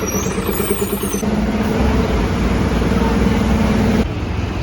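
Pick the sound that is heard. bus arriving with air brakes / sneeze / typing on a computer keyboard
bus arriving with air brakes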